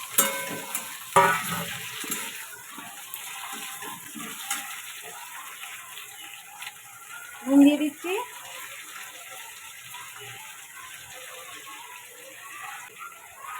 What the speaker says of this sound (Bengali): এবার টমেটো কাঁচা লঙ্কা দিয়ে একটু নাড়াচাড়া করে নিই